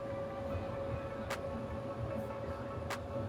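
Steady low rumble of a moving passenger rail car on a day trip in Denver, constant and even throughout, with two faint brief clicks and no talking.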